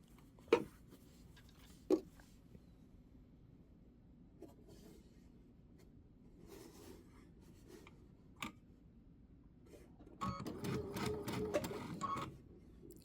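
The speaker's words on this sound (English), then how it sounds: "Just started sewing this one" A sewing machine stitching a quilt runs in one short, fairly loud whirring burst near the end, after a stretch of quiet handling with a few sharp clicks and taps.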